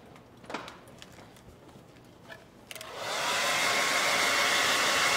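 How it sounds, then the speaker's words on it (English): A blow dryer is switched on to dry paint mixed with sawdust on a stenciled coffee-themed craft project, starting after a few quiet clicks and then blowing steadily and loudly through the rest. "I'm going to hit the blow dryer"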